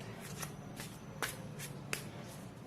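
Tarot cards being shuffled in repeated soft riffling bursts, close and quiet, with a few sharper flicks and no talking.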